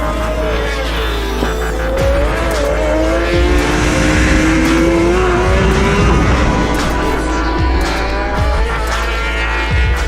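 Formula 3 race cars lapping a circuit, engines droning loudly and steadily throughout with rising and falling pitch as cars pass, plus brief tire and mechanical noise.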